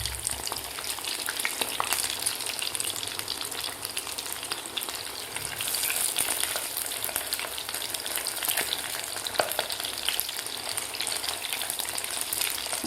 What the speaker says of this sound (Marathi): आता दोन्ही बाजू आपल्याला व्यवस्थित गोल्डन कलर होईपर्यंत तळून घ्यायचे आहे